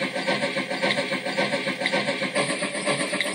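A BlueRail model steam train sound unit chuffs at speed step 7, giving a fast, steady run of close, even puffs with no talking.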